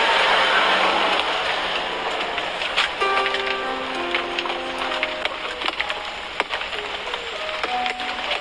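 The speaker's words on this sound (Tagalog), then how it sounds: "Umuulan din sa loob." Rain falling on and leaking into a dilapidated, damaged house, a loud constant patter with sharp drips and knocks on wood and metal throughout, faint tonal sounds scattered in the background.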